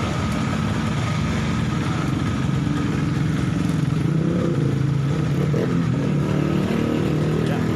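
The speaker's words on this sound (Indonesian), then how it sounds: "Ini digas penuh. Sudah saya gas penuh. RPM hanya di angka 2000." A Honda CBR 150R motorcycle engine held at full throttle yet stuck around 2000 rpm, a loud steady rough drone close by that never rises in pitch and runs unbroken throughout.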